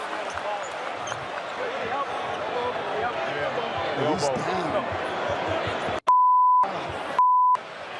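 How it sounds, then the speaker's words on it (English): Two flat, steady censor beeps, the first about half a second long and the second shorter, bleeping out swearing over a busy NBA arena crowd and game noise. "Those are F-bombs that got beeped out."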